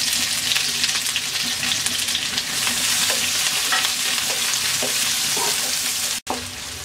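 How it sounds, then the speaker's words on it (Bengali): Chopped onion fries with garlic and whole cumin in hot oil, making a loud, dense sizzle throughout with repeated scraping stirs, ending in a brief break before the frying picks up again. "রসুনটা কিন্তু হালকা ভেজে নেব। দিয়ে দিচ্ছি হাফ কাপ পেঁয়াজ কুচি,"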